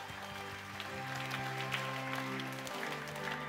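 A church congregation at a Horeb Mountain prayer meeting claps together as worship music plays, with sustained organ-like tones underneath a steady wash of hand claps.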